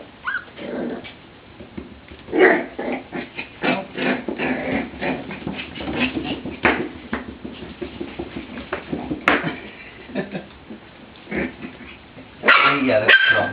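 Playful puppies bark, yip and whimper in quick, irregular bursts close by, with people talking over the romping throughout.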